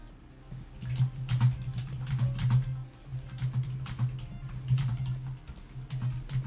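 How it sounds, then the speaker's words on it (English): Loud computer keyboard being typed on in quick, uneven bursts of clicky taps, close and clear, with brief pauses between flurries and no talk. "My loud keyboard."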